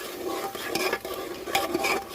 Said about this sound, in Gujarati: જ્યાં સુધી મસાલો સારી રીતે પાકી ન જાય ત્યાં સુધી આપણે એને સારી રીતે મિક્સ કરી દેશું